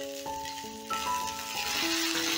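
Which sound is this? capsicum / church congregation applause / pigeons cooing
capsicum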